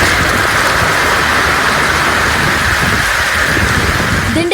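Heavy rain driven by wind falls in the Dindigul area of Tamil Nadu, making a loud, continuous broadband roar that stays steady throughout with no voices.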